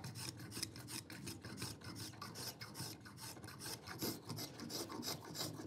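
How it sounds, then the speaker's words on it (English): A spokeshave shaves down the diameter of a wooden drawbore pin in repeated quick rasping strokes, steady and close, with no talk. "I just use my spoke shave now to get that diameter nearer to there"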